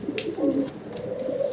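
High flyer pigeons kept together, cooing in soft low throaty bursts close by, with a few faint clicks in the background.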